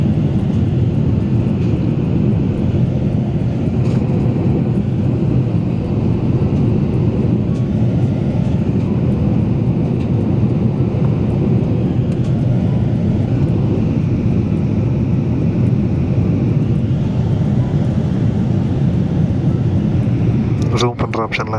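Steady, loud airliner cabin roar on a flight from Mumbai toward London, a continuous broadband engine drone with no break, heard from inside the cabin.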